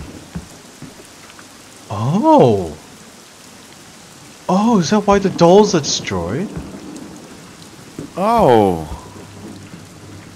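Steady rain hiss with low rumbling thunder throughout in the video game Home Sweet Home, while a person exclaims and talks over it in short bursts.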